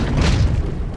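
A bang stick explosion in the underwater shark game Depth: a single deep, muffled boom that rumbles for about a second, heavy in the low end.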